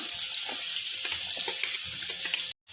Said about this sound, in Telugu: ఇప్పుడు మనం ముందుగా తరిగి పెట్టుకున్న ఆనియన్ వేసుకుందాం